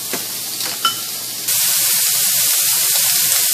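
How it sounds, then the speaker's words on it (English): Tap water runs over a cutting board in a home kitchen after some light clattering, then becomes a loud, steady, close hiss of spraying water. "Oh, now I gotta go wash the board."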